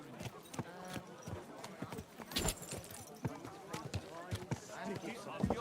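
Horse hooves clip-clop steadily on the ground in the medieval game Kingdom Come: Deliverance II, a quick run of close, even footfalls beneath ongoing talk.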